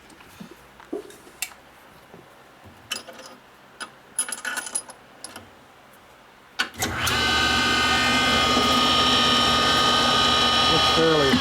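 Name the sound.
engine valve spun in a valve machine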